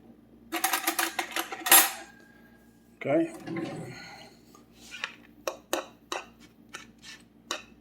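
Cooked sausage and bacon mixed together in a dish, close metal-on-dish scraping and clinking in bursts, with a brief spoken word and a run of sharp separate taps near the end.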